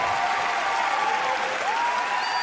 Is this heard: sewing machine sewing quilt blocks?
no